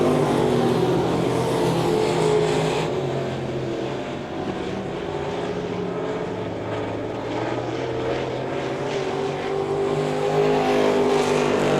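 Race cars roaring around Devil's Bowl Speedway during a heat race, their engines forming a continuous loud drone that rises and falls as the pack passes.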